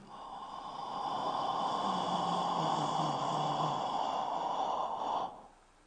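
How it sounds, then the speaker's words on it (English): A slow, deep inhale during a guided breathing exercise, a steady airy rush lasting about five seconds, close and fairly soft, then fading out. "Breathing in with me."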